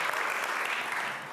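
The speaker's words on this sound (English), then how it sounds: "You should applaud for her." Brief burst of audience applause during a live conversation event, steady dense clapping that tapers slightly at the end, fairly soft in level.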